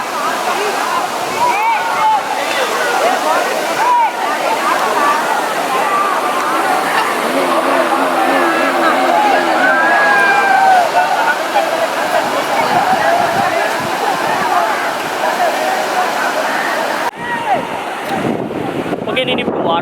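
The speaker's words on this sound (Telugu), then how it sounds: "దీన్ని కీలేశ్పురం వాటర్ ఫాల్స్ అంటారు" Keeleswaram waterfalls in the Kondapalli hills pour with a steady broadband roar close by, buffeted by wind gusts on the microphone, with occasional voices in the background and a brief drop near the end.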